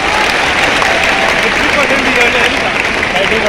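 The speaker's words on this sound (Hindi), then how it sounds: "एक बार जोरदार तालियां इनके लिए।" A live audience at a NEET 2023 toppers' talk in Kota, Rajasthan breaks into steady, dense applause, loud and sustained throughout with crowd noise mixed in.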